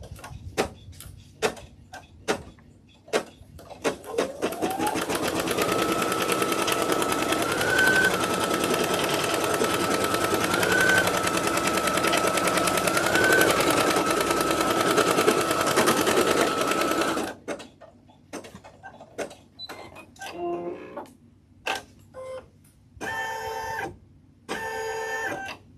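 An embroidery machine stitching with gold thread runs in a loud, fast, even mechanical chatter for about thirteen seconds after a few starting clicks, then stops, leaving scattered clacks and short bursts of machine noise.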